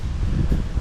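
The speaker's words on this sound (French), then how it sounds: "le vent s'est levé, du coup ça rafraîchit beaucoup" Cold wind blowing in gusts outdoors during a rest stop on a long bike tour, a steady low rumble with rustling and buffeting against the microphone, loud and close, no talking.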